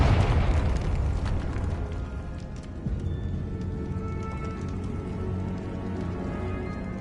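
A Confringo blasting spell goes off in a video game: a loud, close explosion bursts at the start, then fades into a long, roaring, crackling rumble that holds steady to the end.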